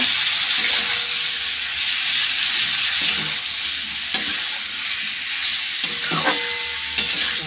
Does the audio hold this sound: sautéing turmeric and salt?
yes